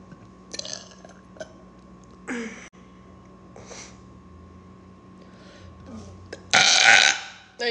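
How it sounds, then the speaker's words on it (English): A person lets out a series of burps, one long loud belch near the end standing out after smaller ones, with scattered speech and breathing around them. "There's my burp ski."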